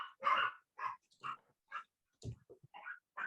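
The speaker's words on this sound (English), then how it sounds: "I'm at a house that has 6 dogs, literally 6 dogs." Several dogs in a house barking in a ragged series of sharp, separate yaps and woofs at close range, with short gaps between them and one lower growly bark near the end.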